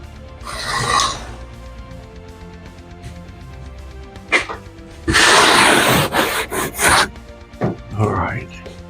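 A part for a Mini-Max 1030S ultralight aircraft build is trimmed by hand, giving close, rough rasping and rubbing strokes in uneven bursts with a heavy stretch in the middle, with voices talking in places.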